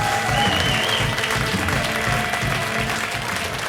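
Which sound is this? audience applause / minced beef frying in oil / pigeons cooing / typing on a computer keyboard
audience applause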